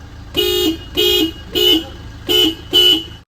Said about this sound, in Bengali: একবার হর্ন দিতে বললো